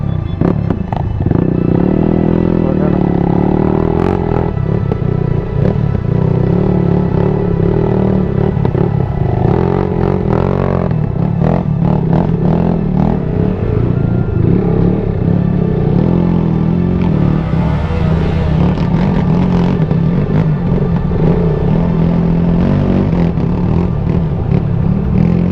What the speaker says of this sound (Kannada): ಈ ಬೈಕ್ ನೋಡಿ, ಇದು ಚೈನೀಸ್ ಬ್ರ್ಯಾಂಡ್ ಅಂತೆ, ಕ್ರಾಸ್ ಫೈರ್ ಅಂತ, CX7 ಡಬಲ್ ಸೈಲೆನ್ಸರ್